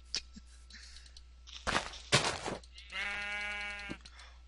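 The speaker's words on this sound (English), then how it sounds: "Hi, sheep. Give me your wool." Sheep bleating in the Minecraft video game, a drawn-out harmonic bleat following a few louder scuffling thumps, heard clearly over a steady low hum with no talk.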